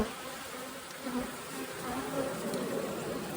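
Honeybees in a hive being shaken off comb frames during a heavy nectar flow give a steady, dense buzzing drone that fills the whole span, close and continuous, with no voices.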